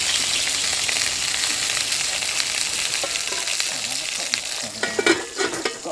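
Sausages fry in a pan at a sub-zero winter camp, giving a steady, close sizzle with no talk, along with a few louder spits and crackles near the end.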